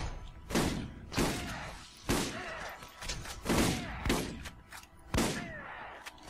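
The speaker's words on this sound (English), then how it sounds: "someone is shooting outside" Borderlands gunfire somewhere outside, a run of heavy thumping shots spaced irregularly over several seconds, muffled and moderately distant, with faint chatter in between.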